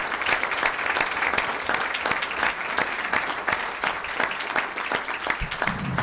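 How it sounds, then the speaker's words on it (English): Steady applause from an audience at a board meeting award presentation fills the whole stretch, dense clapping that stays even and continuous. "Let's give them a round of applause."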